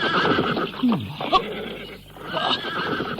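A horse in a radio drama, calm moments before and suddenly turning wild, gives a loud close neigh, a sharp whinny with a falling tail, amid commotion and a snorting burst, while voices speak around it.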